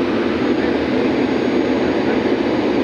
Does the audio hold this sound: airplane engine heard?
yes